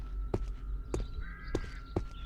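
Four sharp, evenly spaced caws from a crow in the Cataclysm DDA video game, each a short harsh burst over a steady low hum and a faint background tone.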